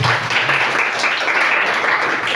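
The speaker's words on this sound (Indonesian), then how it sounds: "Tepuk tangan buat Husein." A classroom or school audience applauds continuously, a full and even burst of clapping lasting a couple of seconds, loud with no talking over it.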